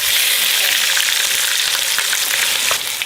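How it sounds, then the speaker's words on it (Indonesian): Chili fries in hot oil in a home kitchen for Indonesian sambal, a loud, constant crackling sizzle with scattered pops and no talking. "Kita goreng dikit buat sambal ya"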